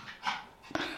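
A dog pants in quick, breathy bursts close by, with a short whimpering whine near the end, all within a single second.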